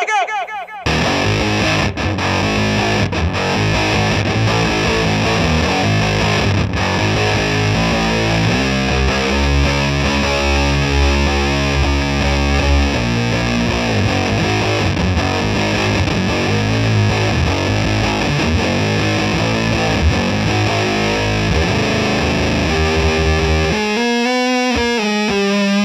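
Guitar through a Dwarfcraft Reese Lightning octave fuzz pedal blares a thick, buzzing, heavily saturated fuzz tone with sustained notes and shifting pitch, loud and unbroken for most of the stretch before cutting off near the end.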